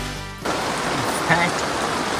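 Heavy rain pours down on a grape farm, a dense, steady hiss that starts suddenly after a brief quieter moment and continues loud and unbroken to the end.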